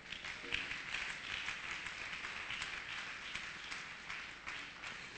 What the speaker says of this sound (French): Applaudissez-moi le Seigneur Jésus